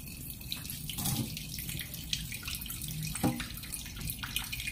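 Running tap water splashes steadily while dishes are washed in a sink, with occasional clinks and drips close by.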